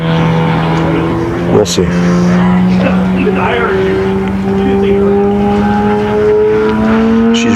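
Giant-scale F8F Bearcat RC plane engine turning a scale four-blade prop, a steady loud drone with a gradually rising pitch, running continuously while someone talks over it.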